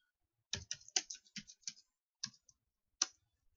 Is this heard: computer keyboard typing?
yes